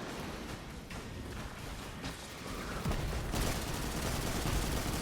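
Rapid bursts of automatic gunfire and layered shots fill a Destiny 2 Beyond Light firefight, dense and continuous, growing louder and heavier toward the end with no talking.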